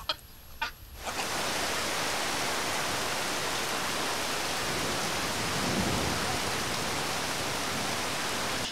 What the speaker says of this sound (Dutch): daar zitten we dan eventjes gevlucht voor de regen. Voor de regen, ja. Die komt met bakken naar beneden.